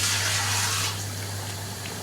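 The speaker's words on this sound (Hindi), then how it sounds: "इसमें हम सिर्फ 1 कप पानी डालेंगे" A cup of water poured into a pot of chicken Sindhi biryani on the stove, a loud close gushing splash that eases into a steady lighter trickle, with a low hum beneath.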